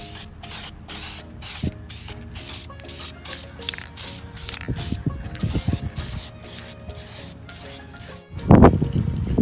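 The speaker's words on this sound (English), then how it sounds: "we can go ahead and spray our first layer of color on" Aerosol paint in a Mopar color is sprayed onto a Jeep WJ headlight housing. It comes as short hissing bursts with rhythmic gaps, mixed with can rattles and handling clicks, and a louder clatter near the end.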